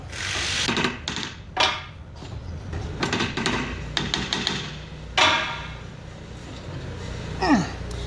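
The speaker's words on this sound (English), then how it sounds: "every time I do this, you can feel the nut shifting a little bit when you tap on it" Taps on a bearing nut of a Lancaster Model 4220 hammer mill, struck to shift it during bearing installation: a handful of sharp, close metallic knocks at irregular intervals over a low mechanical background.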